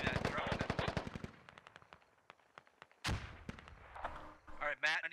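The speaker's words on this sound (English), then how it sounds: "Fulcrum taking shots at Londart's taking shots at Adam, or tossing grenades at Adam" Combat in a military video game: a fast burst of automatic gunfire opens loud and close, then scattered single shots and a sharp blast follow, with speech breaking in near the end.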